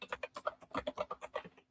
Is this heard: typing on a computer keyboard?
yes